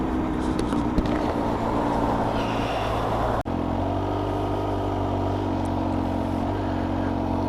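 A Kawasaki H2 SX SE motorcycle cruising through town gives a steady, close engine drone under wind rush, with a brief drop in sound partway through before the even hum resumes.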